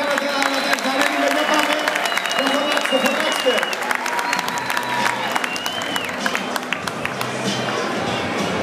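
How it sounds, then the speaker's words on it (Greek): Audience applause greets contestants at a Greek cocktail championship, a steady wash of clapping that fills the room throughout, with voices and crowd chatter mixed in. "Ένα χειροκρότημα για τα παιδιά."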